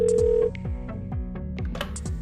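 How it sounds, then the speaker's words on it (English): Telephone dialing tones as an audiobook sound effect: a steady dial tone gives way to a rapid series of short beeping key tones, close and clear, with no speech. "saw that I had missed a call from Alexei, and then called him immediately back."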